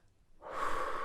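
A single deep breath rises from silence into a loud, airy inhale or exhale, close and soft in a quiet whispered setting.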